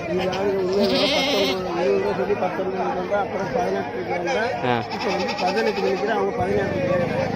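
Kodi goats at a rural goat market near Andimadam bleat intermittently amid steady crowd chatter, with people talking and bargaining close by throughout.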